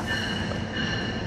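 A train at a station platform, with a steady rolling rumble and a high, sustained squeal of wheels or brakes running throughout, loud and close, with no talking.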